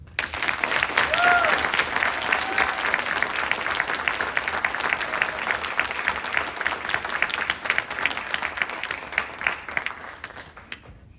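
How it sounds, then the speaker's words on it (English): Crowd applause after a high school marching band halftime show, loud sustained clapping and cheering for about ten seconds before tapering off. "So please, round of applause."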